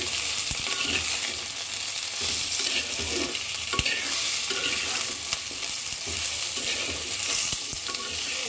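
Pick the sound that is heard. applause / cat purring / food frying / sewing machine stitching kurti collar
food frying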